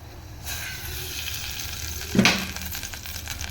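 Hot oil sizzles and crackles steadily in a pan, with a sudden louder hiss as tempering spices are dropped in, then continued frying.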